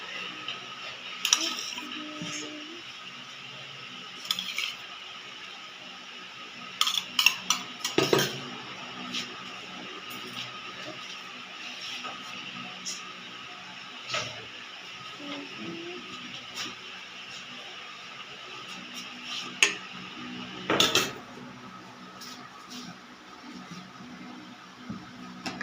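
Crisp papri wafers are set out on a plate with yogurt, making scattered light clinks and taps of crockery and utensils over a faint steady background hum, with no one talking.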